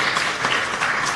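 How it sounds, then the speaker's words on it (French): An audience at a UNESCO event in the DRC applauds in honour of Kofi Annan, a brief burst of dense, continuous clapping heard up close. "Est-ce qu'on peut applaudir pour monsieur?"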